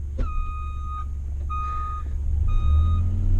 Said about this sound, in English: That is why I put a backup alarm on my Gator